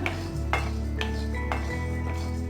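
Urad dal and asafoetida dry-roasted in a pan with the flame off: a spatula clinks and scrapes against the metal pan in regular strokes about every half second over a steady low hum, close and with no talk.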